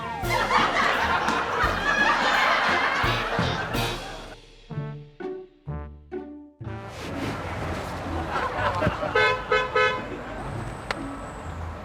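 A car horn honks in several short bursts, between stretches of noisy activity and laughter nearby.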